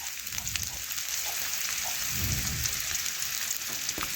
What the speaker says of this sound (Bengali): পেঁয়াজ আর রসুন একটু নাড়াচাড়া করে একটু আমি লাল লাল করে ভেজে নেব।